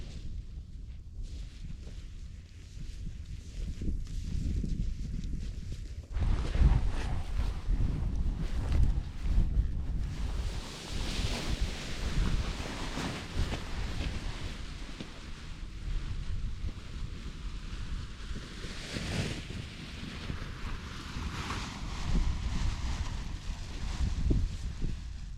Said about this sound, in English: Wow, very light winds at the moment.